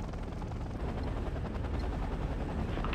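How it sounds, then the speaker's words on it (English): An Apache helicopter's Gatling gun rattles in rapid, continuous fire in Act of War, with a rumbling rotor drone underneath, steady and moderately loud over three seconds. "Oh, we could probably leave them in Gatling gun mode and still demolish everything."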